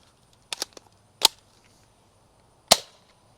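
A Nerf Rival Knockout toy blaster fires several sharp snapping shots: a quick cluster of pops, then two isolated cracks spaced apart against a quiet background.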